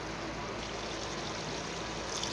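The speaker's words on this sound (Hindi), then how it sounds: "अब हम इनमें पानी शामिल करेंगे।" Water poured into a pot of potato rice (aloo tahari) on the stove, a soft steady stream heard alone and fairly quiet.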